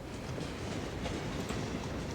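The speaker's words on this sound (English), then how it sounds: "this is one of the newer, shorter trams that was released in the most recent update to City Skylines" A newer, shorter tram running in the city-building game Cities: Skylines gives a steady low rumble of rail rolling with faint wheel clatter, continuous and fairly quiet.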